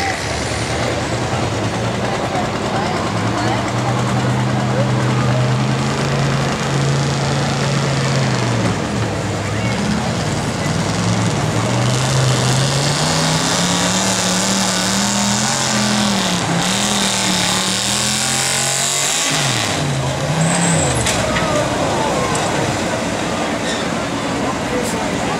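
A loud, heavy 1977 Ford F-250 pickup engine roars and pulls steadily under strain at a truck pull, its pitch rising and wavering as it labors, with a crowd voice faintly beneath.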